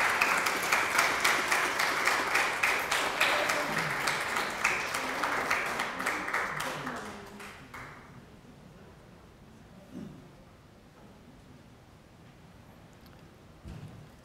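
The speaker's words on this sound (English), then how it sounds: "a warm round of applause" A crowd applauds loudly for about seven seconds, then the clapping thins out and fades, leaving a quiet room with a few stray sounds.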